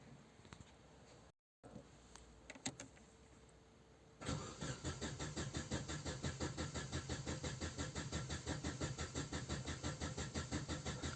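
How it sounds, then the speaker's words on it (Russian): A petrol car engine turns over on the starter during a crankshaft sensor and fuel pump test, a few quiet seconds giving way to a loud, steady rhythmic cranking chug that keeps going to the end. "Запускаем двигатель."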